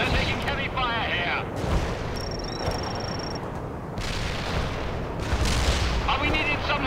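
Battle gunfire and artillery from the video game World in Conflict keep up dense, continuous booms and crackling bursts, loud and near, under clipped radio chatter from voices throughout.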